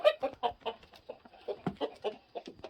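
Wyandotte chickens in a coop give a rapid run of soft, close clucks and short throaty calls in an uneven rhythm.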